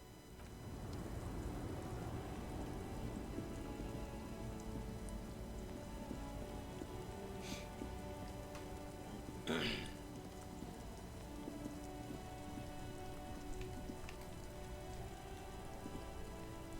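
Steady rain in the video game Disco Elysium pours down on a surface in a constant hiss, with a few brief louder splashes standing out partway through.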